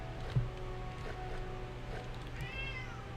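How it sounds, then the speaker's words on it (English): A hungry domestic cat meows once or twice faintly in the background over a steady low hum, with a brief thump near the start. "And if you can hear my cat,"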